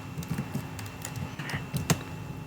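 Rapid clicking of computer keyboard keys as a command is typed, a quick irregular run of light taps close by, fairly quiet.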